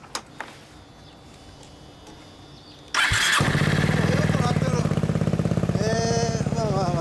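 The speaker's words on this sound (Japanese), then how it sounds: "エンジン音聞かせてもらえる？" A 250 cc Yamaha Maxam scooter engine cranks and catches about three seconds in, then settles into a steady, loud, close idle with a rapid even pulse, preceded by quiet background and a few faint knocks.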